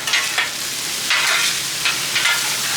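Olive oil and garlic paste sizzle loudly on a hot Blackstone griddle, a close, bright hiss swelling in bursts as a spatula pushes through it, with no talking.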